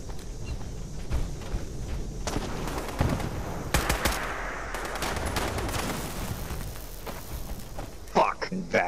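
Gunfire in a Fallout 76 Nuclear Winter match: rapid sharp shots and bursts crackle throughout, some close and loud, others more distant, with a voice talking over the fighting.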